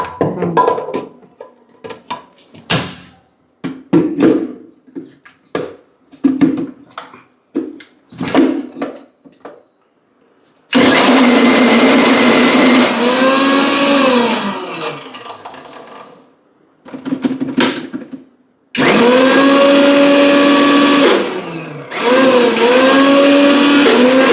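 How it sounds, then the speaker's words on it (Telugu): A mixer grinder pulses ginger, garlic and gongura leaves for pickle, with loud, whining motor bursts separated by short pauses, preceded by a series of quick clattering knocks. "ఇప్పుడు సరిగ్గా వేసుకొని గ్రైండ్ చేసుకుంటే సరిపోతుంది"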